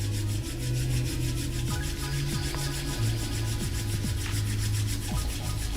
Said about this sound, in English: just bringing the hands together in a nice gentle rub